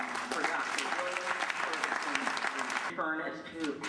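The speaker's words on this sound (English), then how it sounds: "may I have a round of applause for Dr. William" An audience at a 2009 health care reform town hall in Richmond, Virginia claps steadily and densely throughout, with a brief burst of louder clapping near the end.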